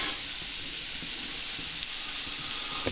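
Chicken legs frying in a pan, a steady close sizzle of hot fat with faint crackles throughout, no voices.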